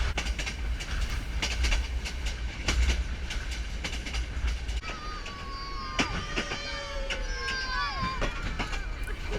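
A train carriage rolls along the rails between Yangon and Bagan, Myanmar, with a steady rumble and periodic clicks. Faint squeals and creaks rise partway through, and a voice murmurs in the background.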